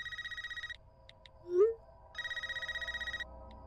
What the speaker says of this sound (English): How'd you know my landline was ringing?